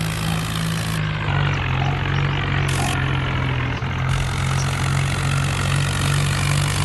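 A loaded tractor engine labors uphill, producing a steady, loud, low mechanical drone with a constant, even pitch and no pauses.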